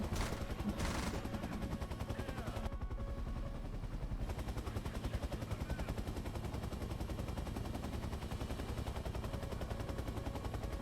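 Rapid automatic gunfire in the AH-1F VR helicopter sim, a continuous fast rattling burst of shots lasting the whole stretch over a constant engine drone.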